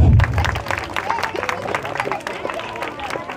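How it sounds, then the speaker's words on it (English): Children in a karate class clap together at a busy, uneven pace, with crowd noise and voices mixed into the clapping in a lively room. "Clap, please."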